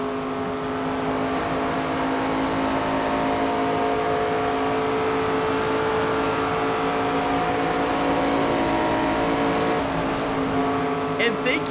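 A NASCAR stock car engine in the NASCAR 25 racing game drones steadily at high revs through a career race at Kansas, a continuous loud roar with layered engine harmonics and a brief crackle near the end.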